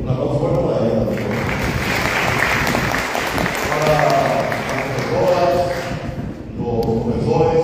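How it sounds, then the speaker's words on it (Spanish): An audience applauds the hostess at a public event in a historic hall, a steady, loud wash of clapping and crowd noise with voices and cheers mixed in throughout. "Un aplauso fuerte para ella también."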